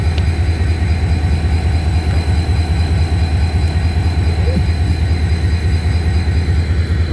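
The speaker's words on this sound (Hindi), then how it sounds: "तो आखिरकार ट्रेन ने पहला विसल दे दिया और रवाना होने लगी है।" A train rumbles steadily as it starts to pull away from Drigh Road railway station in Karachi, a loud, constant low engine drone filling the whole stretch, with no distinct whistle blast standing out.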